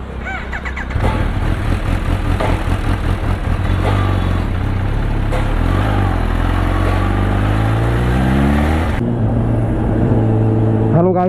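A freshly washed Kawasaki Ninja H2 motorcycle starts up and rides off, its loud engine kicking in after a second, then revving and pulsing continuously near the listener, with a rising pitch toward the end.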